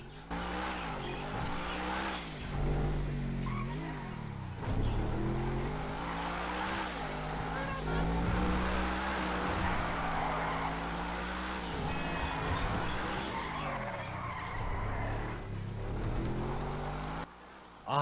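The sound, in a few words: sports car engine in video game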